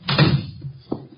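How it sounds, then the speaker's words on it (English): A door shutting in a 1950 Nero Wolfe radio drama, heard as a muffled thump near the start and a softer knock about a second later, close by and brief. "Shut the door."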